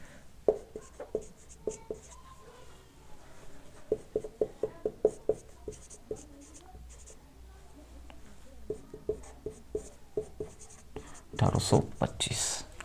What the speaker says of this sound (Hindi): दूसरा लिख रहा हूं मैं